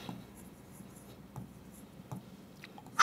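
Quiet scratchy strokes of a marker or chalk on a board during a maths lesson, a few faint bursts of writing over low room noise, no talking.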